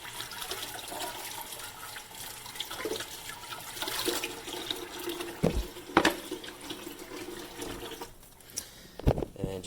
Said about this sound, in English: rinse the lid out. Just make sure you get all the soap off.